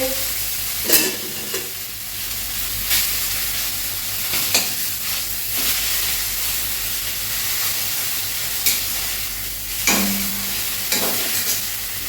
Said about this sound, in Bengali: দেখো মাছের মাথা বসিয়ে দিচ্ছি, তেল গরম হয়ে গেছে।